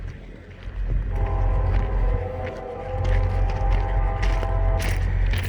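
A Union Pacific freight train approaches and rolls past on BNSF territory, its loud, steady rumble joined by a sustained horn blast and clattering wheels close by.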